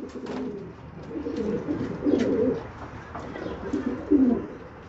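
A hand-held pigeon gives soft, low, repeated cooing close by, in short rumbling bursts.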